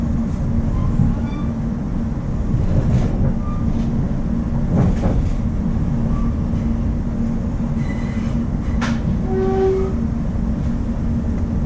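A steady rumble of a train with faint squeals and a brief high tone near the end, continuous and fairly loud.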